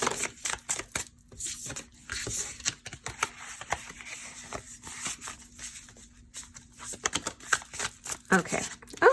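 Tarot cards being shuffled by hand in a steady stream of quick, dry riffling clicks and slides, close and continuous, with a faint hum underneath.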